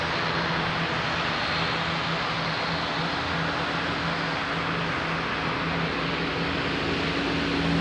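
A fixed-wing airliner at Lisbon Airport produces a constant, heavy engine roar with broadband rushing noise, holding steady throughout as it powers up for takeoff.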